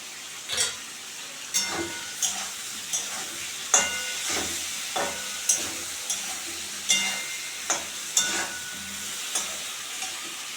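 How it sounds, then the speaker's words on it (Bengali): Potato, brinjal and prawn pieces fry with salt and turmeric in a pan, a soft steady sizzle broken by a dozen or so regular scraping stirs of a spatula, close up and without voices. "আলু বেগুন চিংড়ি মাছগুলো ভাজা ভাজা হয়ে গেছে"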